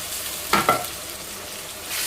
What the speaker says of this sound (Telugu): ఈ మసాలా ముద్ద కొద్దిగా వేగాలి పచ్చివాసన పోయేలాగా